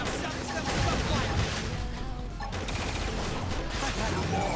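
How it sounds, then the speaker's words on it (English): Rapid volleys of gunfire from a Xenoblade Chronicles X: Definitive Edition battle, dense and continuous at close range, layered with game music and in-game voices speaking throughout. "Now silence them with gunfire."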